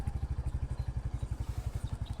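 A Royal Enfield Hunter 350 motorcycle engine runs after standing parked for two days, with a steady, loud, close thumping beat and fast, regular low pulses. No one speaks.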